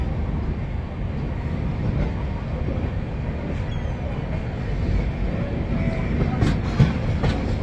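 The Howrah–Puri Shatabdi Express, train number 12277, runs at speed, heard from on board as a continuous heavy rumble with a faint clickety-clack of wheels over rail joints.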